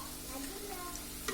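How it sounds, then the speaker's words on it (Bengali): Cabbage pakoras frying in hot oil, a faint steady sizzle with light stirring and small ticks, ending in a brief louder clink. "এখন আমাদের বাকি যে বাঁধাকপিগুলো আছে সেগুলো এখন আমরা এর মধ্যে দিয়ে ভেজে নেব।"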